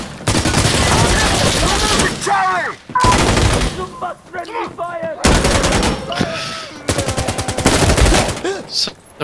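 Gunfire in the tactical shooter game Insurgency Sandstorm: loud, close bursts of rapid automatic fire in several volleys separated by brief gaps, with a voice talking faintly between the bursts.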